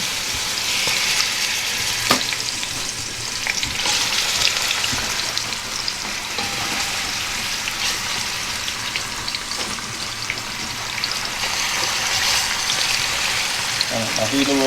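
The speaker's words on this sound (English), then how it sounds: "It should sizzle when you put them in." Squirrel meat browns in about 1.5 tablespoons of hot oil in a pot, giving a steady, loud sizzle and crackle that holds through the whole stretch, with faint speech beneath it.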